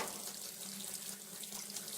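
Tap water running steadily into a sink to rinse paint from a paintbrush, a continuous hissing splash at moderate level, close by, with no speech.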